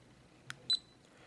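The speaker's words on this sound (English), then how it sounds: "you'll hear it beep once" A GoPro Hero HD camera gives a short electronic beep as it starts recording, a faint click and then a single sharp high tone close by in a quiet room.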